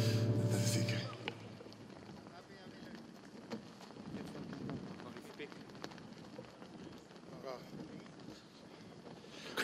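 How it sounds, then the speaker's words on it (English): Strong outdoor wind buffets the microphone in a continuous rushing roar at an open-air gathering, steady and fairly loud throughout, with a brief burst of music at the start. "Crazy wind, I'll have to play with one hand or something."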